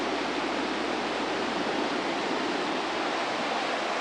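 The Cline River rushes in a dense, unbroken roar of flowing water, close and loud, a steady wash with no pauses and no voices.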